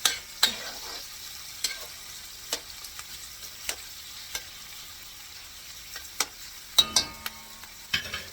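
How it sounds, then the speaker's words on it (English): Korean meat frying in a pan, a faint continuous sizzle punctuated by irregular light taps and utensil clinks, with a cluster of clinks near the end. "I just let it fry before I put this in"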